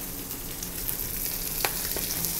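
Chicken skin sizzles in a hot frying pan, a steady crackling hiss with a few sharper pops, close and moderately loud.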